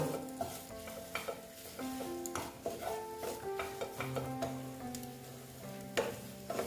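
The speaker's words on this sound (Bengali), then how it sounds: "আবার এটাকে ভেজে নিচ্ছি মোটামুটি এটা আমার ভাজা হয়ে গেছে" A spiced breakfast mixture with no wheat or rice flour fries in a pan, stirred with a steady rhythm of soft scrapes over a low sizzle, close but faint.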